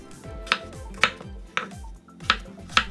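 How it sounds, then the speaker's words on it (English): A knife cuts peeled potatoes into bite-sized pieces on a board, five crisp, evenly spaced chops about half a second apart, close and clear, with faint low background music. "Then, we are going to cut into bites."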